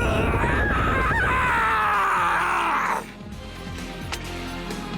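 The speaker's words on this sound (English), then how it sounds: "The wall started moving with that scream." A loud, drawn-out scream from a character in the video game My Hero One's Justice 2, sustained for about three seconds over game effects, then cutting off into quieter background sound.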